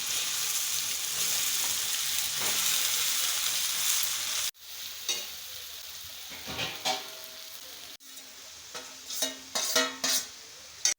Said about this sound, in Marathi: कोथिंबीर घालूया त्याच्यामध्ये वांगे परतून घेऊया